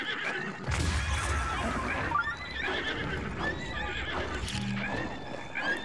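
Horse from The Legend of Zelda: Breath of the Wild game, a loud neigh and whinny with clip-clop hoofbeats, amid explosive game noises and effects.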